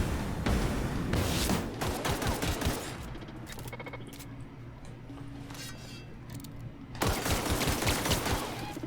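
Rapid bursts of gunfire from a disliked gun in The Outer Worlds video game, loud volleys at the start and again near the end, with a quieter stretch of mechanical game sounds between.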